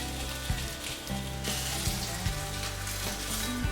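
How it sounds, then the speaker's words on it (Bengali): Fish frying in hot oil, turned with two ladles so the sides cook, producing a steady crackling sizzle with a few soft clinks, close and moderately loud with no speech. "2টা হাতা দিয়ে মাছের সাইডগুলো এভাবে তেলে আমি ভেজে নিচ্ছি"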